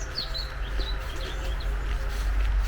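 Wild birds chirp and tweet in short, scattered high calls during an outdoor walk, fairly close, over a steady low rumble of wind or distant background noise.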